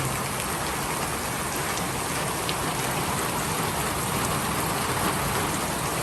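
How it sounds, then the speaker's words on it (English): Heavy rain pours down steadily in the Great Smoky Mountains, a dense, loud hiss of drops drumming on surfaces with no letup. "You can barely hear me in the deluge."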